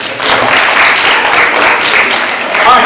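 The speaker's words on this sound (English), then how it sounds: "Let's give Trayvon a round of applause." An audience in a lecture room breaks into steady, dense applause: many hands clapping together in a close, continuous burst that holds its level for a few seconds.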